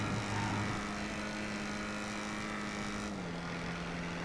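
A steady engine drone from a car driving in GTA Online, a constant mid-loud hum with a slight pitch drop near the end and no voices.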